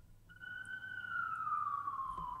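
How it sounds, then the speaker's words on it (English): An emergency vehicle siren wails outdoors, a steady descending tone with a harmonic above it, distant and continuous over a low rumble of traffic. "I'm sorry, the sirens are actually drowning you out."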